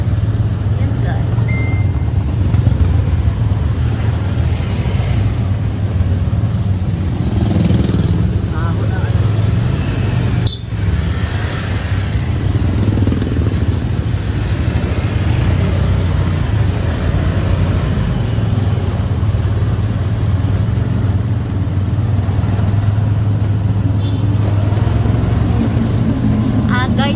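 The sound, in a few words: road traffic heard from a roadside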